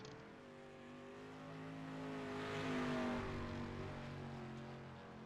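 Dirt street stock race car rolling out onto the track in the iRacing game, a faint engine hum with steady harmonic tones that swells slightly then eases, heard alone without talk.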